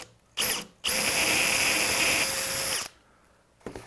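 A power drill boring holes for a bumper bracket, running in one short burst and then a long steady whine of about two seconds, close and loud, with a brief restart at the end.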